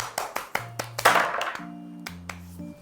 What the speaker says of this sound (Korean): 수고하신 모든 분들께 수고의 박수 하도록 하겠습니다